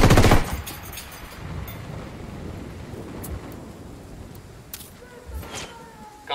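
Gunfire in Ghost Recon Wildlands: a loud, close burst opens, then scattered sharp shots and crackling reports ring out over a low, steady rumble, with another strong shot at the very end.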